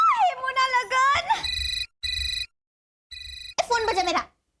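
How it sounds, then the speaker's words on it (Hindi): A phone rings in repeated short electronic bursts between stretches of silence, with voices talking loudly just before and after the rings. "फोन बजा मेरा"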